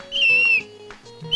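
In a comedy scene, a whistle that has supposedly been swallowed gives out shrill, wavering tones, one long squeal and then shorter bursts, loud and close with no talk over it.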